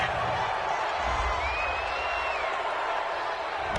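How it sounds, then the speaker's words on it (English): A stadium crowd at an NFL game between Detroit and Chicago reacts to a roughing-the-passer penalty with a loud, continuous roar of booing and noise that stays even throughout. "this crowd does not like that call"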